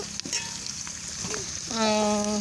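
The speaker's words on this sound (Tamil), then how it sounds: "அடுத்து வந்து பட்டை சோம்பு கசகசா எல்லாத்தையும் போட்டு நல்லா ஃப்ரை பண்ணிகிட்ருக்கோம்" Cinnamon, fennel and poppy seeds frying in oil with ginger garlic paste and mint for chicken biryani over a wood fire, a steady close sizzle swelling louder near the end, with a few stirring scrapes.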